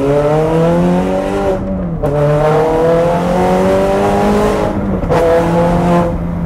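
A loud, close Ferrari 430 Scuderia engine with a Capristo exhaust revs in long rising pulls, its exhaust note climbing in pitch, dropping briefly, then surging again.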